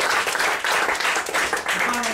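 Audience applause at a stage hypnosis show, a loud, full burst of many hands clapping close by, with a voice rising briefly near the end.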